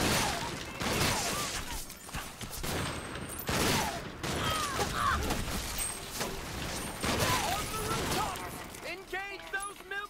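Fireworks burst in the video game Sunset Overdrive amid a dense, loud barrage of crackling explosions and gunfire-like pops, with game effects layered throughout and a rapid crackle near the end.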